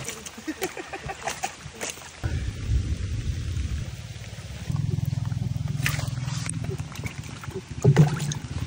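Heavy rain pours steadily, a broad hiss with a deep rumble underneath, swelling partway through and staying loud to the end.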